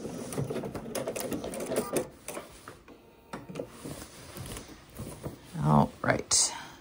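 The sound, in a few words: sewing machine backstitching a pants pocket seam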